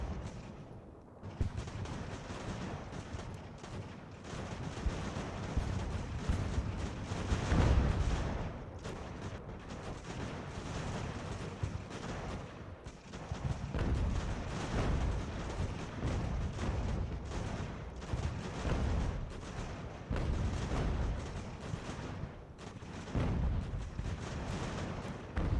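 Mortar artillery rumbles through a battle in Ultimate General: American Revolution, a sustained wash of distant booms and crackling gunfire rolling on without pause at a moderate level.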